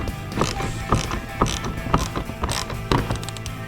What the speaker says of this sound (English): We are gonna go ahead and we're gonna get these things tightened up.